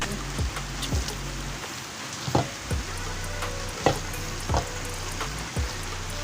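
Beef wet fry simmers and sizzles in a pan with a steady crackling hiss, broken by regular knocks and scrapes of stirring every second or so, close and with no talking.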